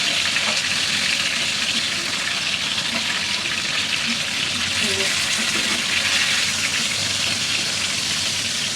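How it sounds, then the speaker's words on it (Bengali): Loud, steady sizzling of fish frying in hot oil with red spice paste, a dense crackling hiss that continues without pause throughout. "আমি হচ্ছে কি মাছ একদম লাল মশলা করে ভাজি, এই দেখেন"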